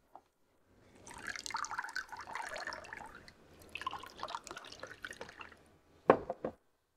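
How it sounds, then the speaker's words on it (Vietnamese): Wine pours into a glass in a bubbling, gurgling stream lasting several seconds, close and fairly quiet, followed by a short clink and final drips. "Làm ơn, phiền anh rót thêm rượu."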